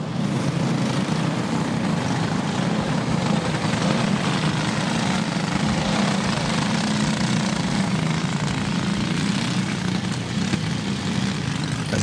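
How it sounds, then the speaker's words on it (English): Racing kart engines at a Red River Kart Club race, a steady, loud, buzzing drone of several motors revving together on the track. "you're going to hear those motors get wound up even tighter here as they come through 3 and 4"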